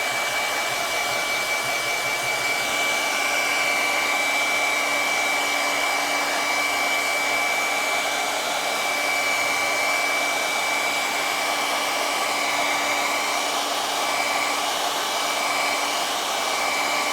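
A hair dryer drying paint runs steadily for the whole stretch, a loud constant whirring blow with a faint high whine, no voices.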